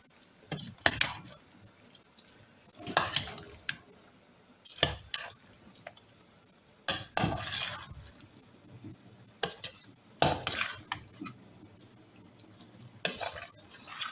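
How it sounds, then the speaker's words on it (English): Chicken dodo stirred in a pot, scattered metallic clinks and scrapes of a spoon against the pot in irregular bursts over a faint background, close, with no speech. "I'm just going to stir it."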